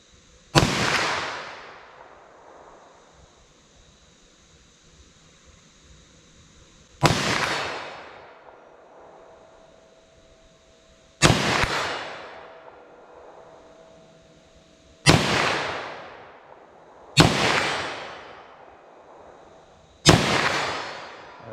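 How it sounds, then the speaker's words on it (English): .357 SIG handgun shots at an outdoor range: six loud, sharp single reports spaced several seconds apart, each followed by a short fading echo. "Let's see if I make any hits with this 357 SIG"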